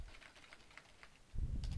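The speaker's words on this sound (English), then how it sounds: "all I'm doing is just typing random stuff on the keyboard" Fingers typing random keys on a computer keyboard, a quiet irregular patter of close keystrokes, followed by a louder low thump at the end.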